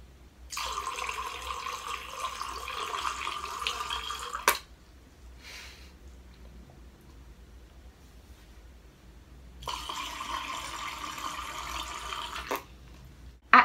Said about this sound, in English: take a mouthful of water and spit it back out in a steady stream.